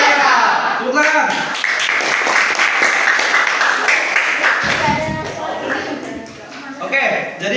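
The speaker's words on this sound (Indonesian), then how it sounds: "Tepuk tangan." A classroom audience applauds together at a physical fitness teaching session, dense clapping filling the whole stretch, loud and close, with voices mixed in.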